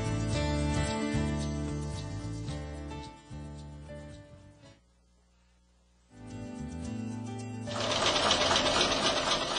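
A small machine steadily stitching tiny, colorful, complex fabric quilts meant as wall art, a close, busy mechanical whir that drops away briefly mid-way and resumes, with no talking.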